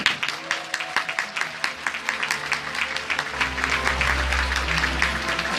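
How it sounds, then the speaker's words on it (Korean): Steady crowd applause at a Busan welfare rally for a local election candidate, continuous clapping at moderate level with a low rumble joining midway. "다시 한번 박수 부탁드리겠습니다."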